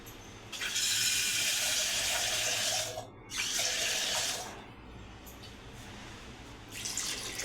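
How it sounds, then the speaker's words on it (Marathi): Water gushes into a pressure cooker over large cut potatoes in two strong pouring bursts with a brief break between, then trickles more quietly, close by. "त्याला काही जास्त नाही बटाटे बुडेपर्यंतच पाणी टाकायचं"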